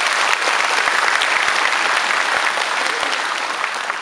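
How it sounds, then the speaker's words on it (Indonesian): Sustained applause from the audience at an Islamic lecture in Miaoli City, Taiwan, a dense, steady clatter of many hands clapping at once that fills the space evenly for several seconds. "Tepuk tangan buat kita semua."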